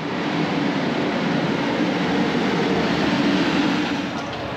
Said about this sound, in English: Is this our train now?